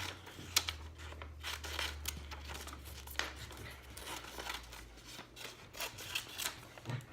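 Scissors cutting paper along printed lines for a craft box flap, repeated crisp snips and rustling paper close by at low volume.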